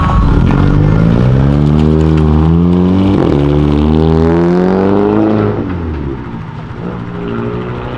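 A car leaving a car event revs its engine loudly and close by. The deep, throaty exhaust roar climbs and holds, then drops off as the car pulls away. No one speaks.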